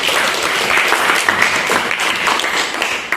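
A classroom of students breaks into applause, a dense, steady patter of many hands clapping close by for several seconds.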